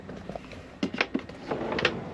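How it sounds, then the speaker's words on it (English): A kitchen drawer is pulled open with a few soft wooden scrapes and knocks, faint and close in a quiet room. "Oh, wrong drawer."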